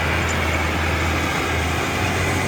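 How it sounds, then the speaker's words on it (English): A tractor direct drilling into a field, its engine a steady low drone with a slight shift in load as it tries to change gear, continuous and fairly close. "You hear the tractor trying to change gear a little bit."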